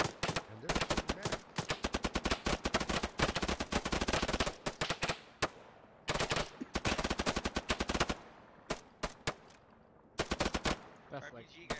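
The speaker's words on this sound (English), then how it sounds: "And they're shooting back." Gunfire in the military simulation game Arma 3 during a firefight near an airfield, with loud bursts of rapid automatic fire in several volleys separated by short pauses.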